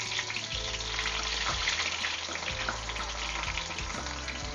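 Ground onion frying in oil for a pork curry, a steady dense sizzle with crackle running continuously and fairly close, with a low background hum and no voices.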